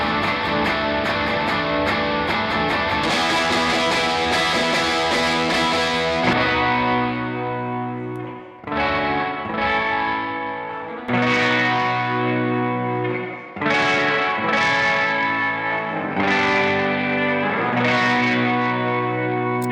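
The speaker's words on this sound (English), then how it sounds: "Let's hear those ultra clean tones and then the crunch tones as well" An electric guitar plays dense, ringing chords at first, then shifts to a grittier, overdriven tone with separate strummed chords and short pauses between them.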